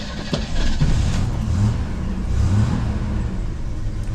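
A Jeep engine cranking and catching, a rough, close mechanical churn with a few sharp knocks near the start, then a steady low rumbling run.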